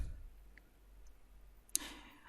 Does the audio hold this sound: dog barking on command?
no